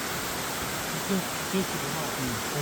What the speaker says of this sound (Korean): 서울에서 출발하여 2시간 그 거리에 이처럼 아름다운 폭포가 있습니다.